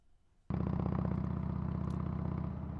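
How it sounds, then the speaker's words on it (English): A motorcycle sound effect cruises along steadily: after a near-silent opening, the engine starts abruptly into a loud, even, rhythmic mid-pitched drone with a faint, light clatter, holding constant to the end. "So this is the motorcycle just kind of cruising along."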